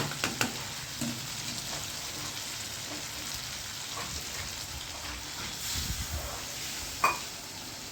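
Potato curry frying in a pan, a steady close sizzle running throughout, with occasional stirring scrapes and one brief utensil clink near the end.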